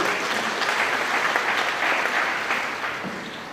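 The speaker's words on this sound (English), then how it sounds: "Let's clap for the graduates." A large crowd at a graduation ceremony claps steadily in sustained applause, dense and even, fading slightly toward the end.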